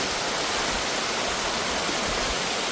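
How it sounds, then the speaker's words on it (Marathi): Heavy rain and rushing water at Naneghat make a constant, full hiss of torrent and downpour, loud and steady without pauses or voices. "अचानक जोरात पाऊस येतोय."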